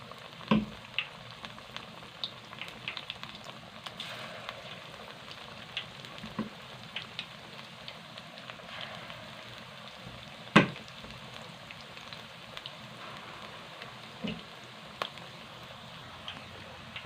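Small nuli beef pakoras fry crisp in hot oil in a desi home kitchen. A soft, steady sizzle runs throughout with scattered sharp pops and crackles, close but faint, and no one speaks.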